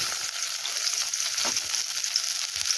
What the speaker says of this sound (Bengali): পেঁয়াজটাকে তেলের সাথে একটু ভেজে নেব